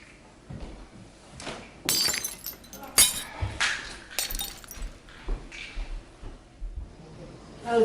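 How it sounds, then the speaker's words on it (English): A drinking glass breaking at home, a sharp shatter with several bright crashes and tinkling fragments spread across a few seconds, close and fairly loud, with faint voices in the background. "did you break a glass?"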